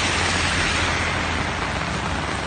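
Intense afternoon rain falls on a street in Sobral, Ceará, as a dense, unbroken hiss that stays loud and even throughout, with no voices.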